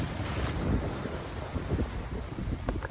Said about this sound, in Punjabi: ਇਹ ਦੇਖੋ ਉਹ ਛੱਲ ਵੱਜਦੀ ਹੈ ਸਾਰਾ ਪਾਣੀ ਅੰਦਰ ਜਾਂਦਾ ਆ ਘੁੰਮ ਕੇ